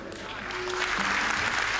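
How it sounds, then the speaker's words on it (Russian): Spectators applaud at a pencak silat martial arts demonstration in Moscow. The clapping swells from quiet to a full, steady wash of applause over a short moment, with a faint voice underneath. "заслуженные аплодисменты зрителей"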